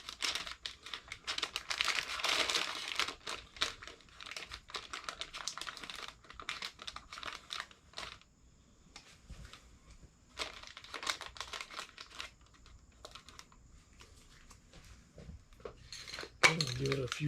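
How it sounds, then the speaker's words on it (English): Masking paper folded and crinkled by hand around a metal stem on a welded autumn decoration before painting, giving bursts of close, dry crinkling with pauses and a few handling knocks, louder near the start and end. "To mask this off, I'm just going to use some masking paper here."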